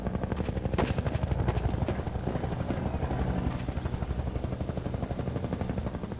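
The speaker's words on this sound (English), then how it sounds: "Since you brought that chopper in on your tail, you want to maybe help us take it down?" A helicopter in the video game Half-Life 2 Episode 2, its rotor thumping in a loud, steady rapid beat that drifts slightly in level, with no talk over it.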